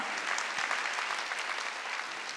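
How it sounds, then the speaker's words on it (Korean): Steady, dense applause fills a church hall during a Sunday worship service, a large congregation clapping continuously and evenly without letup. "박수로 하나님께 영광을 올려."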